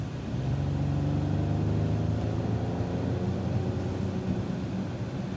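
Mercedes-AMG GLE 53 accelerating in Sport Plus mode, heard from inside as a continuous engine hum and rising drone that holds steady at moderate level throughout.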